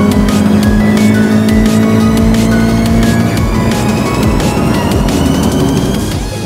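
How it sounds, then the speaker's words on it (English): A Subaru BRZ sports car corners hard on the Donington race circuit. The engine is loud and sustained and close to the listener, with tire squeal running through the turn and the revs shifting as it exits, heard alone without talk. "the car turns in and there's just no drama"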